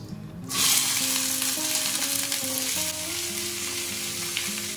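Chicken frying with turmeric in a hot kadai, a loud, steady sizzle that swells at the start and keeps crackling with bursts of spatter throughout, no voices.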